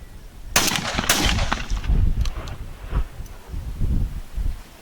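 Remington 11-87 Sportsman Super Magnum semi-automatic shotgun firing 3.5-inch magnum shells: two loud, sharp blasts about half a second apart, followed by rustling and handling noise with no talk.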